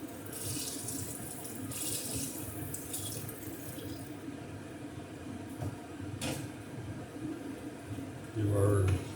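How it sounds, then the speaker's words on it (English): Liquid pours steadily into a pot of Brunswick stew with a running-water sound, a couple of soft knocks, and a louder splash near the end. "Just pour the rest of this in here now."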